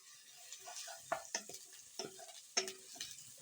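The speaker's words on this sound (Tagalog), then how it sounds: "Pag medyo golden brown na yung ating bawang, yung garlic, sunod na natin na ang sibuyas o onion" Onion sautéing with golden-brown garlic in a pan gives a soft, quiet sizzle, with a few distinct spatula taps and scrapes at irregular intervals.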